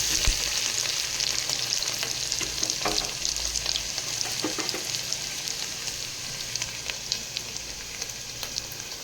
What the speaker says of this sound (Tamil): வெங்காயமும் இது கூட சேர்த்து நல்லா வதக்கி விட்டுருங்க. நல்லா பொன்னிறம் ஆகிற அளவுக்கு